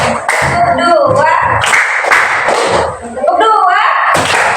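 Hand clapping in an Indonesian primary-school lesson, a few sharp claps in bursts over continuous speech and background voices, loud and close.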